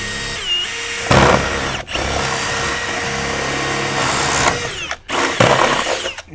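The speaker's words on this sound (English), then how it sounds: "I got a 3/4 inch drill bit in an extension" A power drill driving a 3/4 inch bit on an extension through exterior wall material, loud steady whirring in long runs with brief stops and a final burst as it breaks through.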